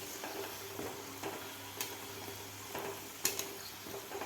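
Coconut-filled modaks fry in hot oil with a steady, faint sizzle and bubbling, dotted with occasional sharper crackles and pops.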